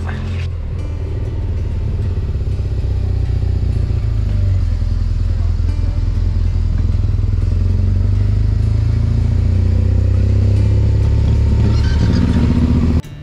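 Motorcycles starting up and pulling away on an Alpine trip toward the Kaunertal Glacier Road, a loud, close, continuous engine rumble that holds steady with rising revs before cutting off abruptly.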